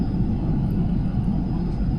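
Steady, even roar inside the cabin of an Emirates A380 airliner cruising at around 40,000 feet. The engine and airflow drone is broad and constant, with a faint high whine above it and no voices.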